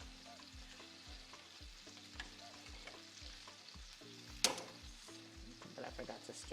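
Potatoes fry quietly in a pan with a low sizzle, a spoon scraping and clinking as they are stirred, all faint and close.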